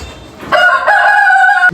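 A rooster crows loudly and close by on a chicken farm, one long sustained call, with faint clucking from other chickens just before it.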